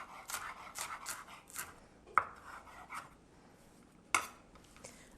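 Knife mincing green onions on a cutting board for crab rangoon dip: a quick flurry of soft taps, then a few sharper isolated knocks against the board, fairly quiet and close, with no speech.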